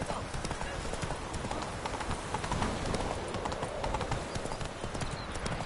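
Galloping horse hooves in the video game The Witcher 3 pound in a dense, steady rhythm throughout, loud and close, with a voice speaking over them.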